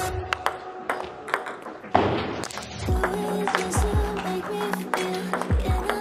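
Sharp ping-pong ball strikes against a paddle's MX-P rubber, a quick series of crisp knocks with brief pauses, close up and fairly loud.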